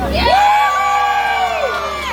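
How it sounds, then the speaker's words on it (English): Passengers aboard a Disneyland Jungle Cruise boat let out one big unified cheer on cue, a loud burst of whoops and yells from adults and children that holds for about a second and a half before fading. "on the count of three, give me a really big cheer"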